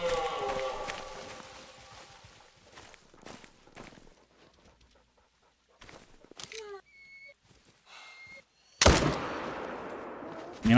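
A hunting rifle shot rings out in theHunter: Call of the Wild, a sudden loud crack near the end followed by a rolling echo, after quiet stretches of rustling movement and faint wildlife calls.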